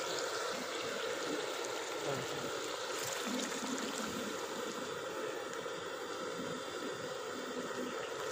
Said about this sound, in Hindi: अब इसमें 1 गिलास पानी शामिल करेंगे।